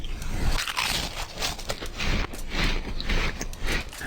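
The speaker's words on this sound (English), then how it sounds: "No response, but the most absurdly euphoric crunch noise I have ever heard." Sour cream and onion Pringles being crunched right up against a voice chat mic, a dense, continuous run of close, loud, crackly chewing crunches with no pauses.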